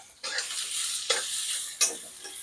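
Carrot and onion are sautéed in a pan for a vegetable paratha filling, with three distinct scraping strokes over a bright hiss of frying, near and fairly loud.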